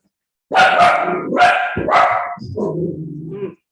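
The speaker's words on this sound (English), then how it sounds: "That's one of my dogs. He'll go back to sleep in a minute." A dog gives a few loud, close barks in quick succession, then trails off into a lower whine or grumble, heard alone in an otherwise quiet room.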